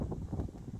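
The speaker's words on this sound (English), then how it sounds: "It's so windy, it's hard to do a video without it being noisy." Wind buffeting a microphone during a ride on a large adventure motorcycle, a steady low rumbling roar that fills the short stretch with no other clear sounds.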